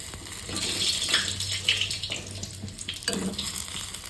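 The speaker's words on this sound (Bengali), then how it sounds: "আমি একটা হাতা দিয়ে তুলে তুলে এই দেখো গরম জলে ছেড়ে দিলাম" Fried lentil fritters are lifted with a ladle and dropped into hot water, a few splashing plops over a low frying hiss and clink of the ladle, close and unaccompanied by talk.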